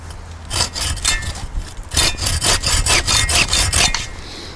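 A 15-inch Sven-Saw cuts through mature wood roughly two inches thick, giving a loud, steady run of rasping push-pull strokes. There is a short pause near the start, then the rhythmic sawing continues without any talk.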